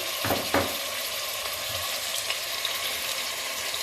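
Garlic ginger paste frying in a pan for a bottle gourd chicken curry, a close continuous crackling sizzle with a couple of soft bumps early on, no talking.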